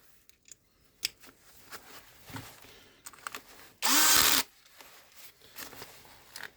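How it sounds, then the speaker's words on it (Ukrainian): Brief burst of a cordless screwdriver driving with a Milwaukee PH2 bit, a short whirring spin of about half a second amid quiet handling clicks and taps. "шурупокрут. Значит, біта, біта PH2, Мілвокі."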